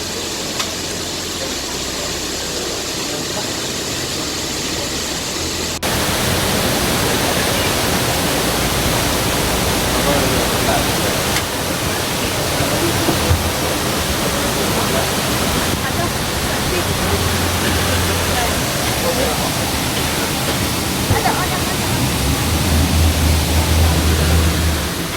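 A waterfall in Mauritius pours with a dense, steady roar of falling water, loud and unbroken, growing fuller partway through and staying constant to the end.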